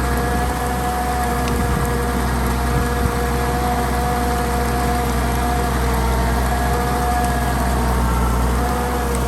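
A 60-horsepower turbo tracked paddy tiller engine drones steadily and evenly for several seconds, loud and close, with a constant mechanical hum and no talk.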